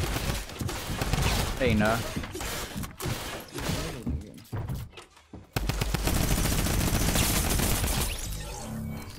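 Minigun fire in Fortnite: long, dense streams of rapid automatic gunfire, loud and close, broken by a short gap before another sustained burst, with a player briefly talking.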